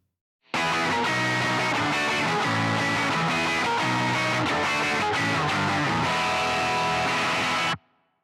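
A thick, sustained distorted electric guitar riff in a pop punk style, played through a distorted amp chain, plays loudly for several seconds, dense and saturated, then cuts off abruptly into silence.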